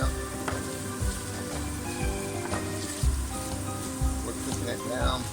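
Chicken alfredo sauce sizzles steadily in a hot pan as it is stirred and cooked down, a close, dense crackle broken by periodic scraping strokes of the spoon.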